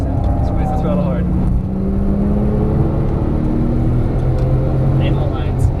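A 2012 Porsche 997 S engine roars and revs close by at Las Vegas Motor Speedway, rising and holding as it accelerates, with a steady whir of track noise underneath.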